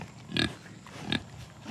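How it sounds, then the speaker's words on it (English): Pigs on a farm give short, loud grunts at close range, two distinct bursts about a second apart with a third starting at the end, and no talk. "crazy pigs. I'm trying to video here."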